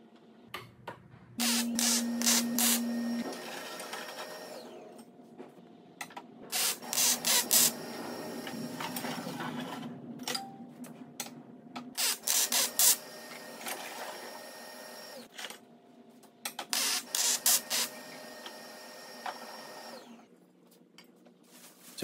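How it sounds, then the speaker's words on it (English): A belt grinder fitted with a super fine polishing belt smooths metal on the slack section of the belt, heard as several close, loud, raspy bursts of grinding with quieter gaps between them. "grinding it smooth with the belt grinder"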